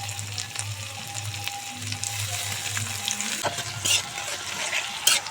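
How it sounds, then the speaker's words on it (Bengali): Ginger garlic paste sautéing with a splash of water for a dhaba-style egg and potato curry, a close crackling sizzle with scraping spatula strokes, alongside a steady low hum and a few sharper clinks. "এখন অল্প জল দিয়ে আদা রসুন ভালো করে কষিয়ে নেব"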